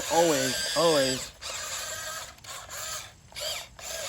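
A Maisto Tech RC T590 Bobcat compact track loader whines with a small electric motor in short bursts, and the pitch sweeps up and down as it runs and stops. A voice talks over it.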